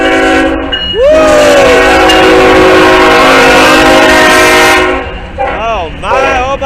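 Two trains pass through downtown Danville, Illinois, one in each direction, with a loud horn blaring close by for several seconds over rail rumble; the horn drops out, then short sliding horn notes return near the end.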